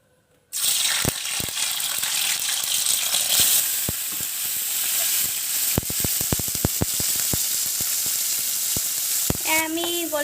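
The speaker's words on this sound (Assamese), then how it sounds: "আমি এই পনীৰখিনি অকণমান ফ্ৰাই কৰি লওঁ এতিয়া।" Paneer frying in hot oil in a kadai gives a steady, loud sizzle throughout, with sharp spatters and utensil clicks scattered over it. A brief tonal clatter comes near the end.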